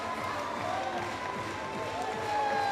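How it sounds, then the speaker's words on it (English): A noisy basketball arena crowd cheers after a SIG Strasbourg win over medi Bayreuth, a dense wash of roaring voices and clapping heard at a distance, rising slightly at the end beneath commentary. "in front of a very, very, very noisy crowd"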